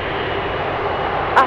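An Airbus A330 KC2 Voyager at RAF Brize Norton gives a loud, steady broadband engine roar, continuous and near throughout with a brief faint chirp near the end.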